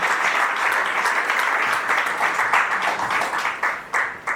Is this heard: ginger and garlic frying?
no